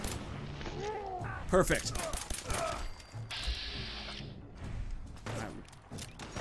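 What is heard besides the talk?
gunfire in the video game Fallout 4 Far Harbor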